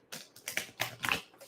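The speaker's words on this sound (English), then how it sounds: "I'm just going to shuffle the cards" Tarot cards are shuffled by hand, giving a quick run of five soft riffling bursts over about a second and a half, crisp and close with short gaps between them.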